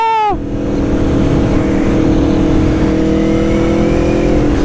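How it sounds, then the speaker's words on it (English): Aprilia Tuono 1100 Factory V4 motorcycle engine revving sharply up and down, then settling into a loud, close, steady high idle drone. "Down low, when you start the engine, it sounds like a MotoGP bike."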